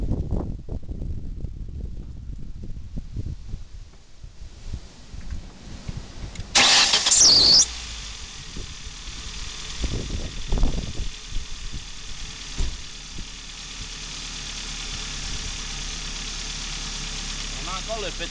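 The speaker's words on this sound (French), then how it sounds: "Je vais démarrer le véhicule." A car engine cranks and catches at once, then settles into a steady idle that runs on to the end, with a little handling noise before the start and brief knocks over the hum.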